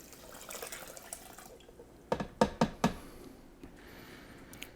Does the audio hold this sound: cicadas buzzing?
no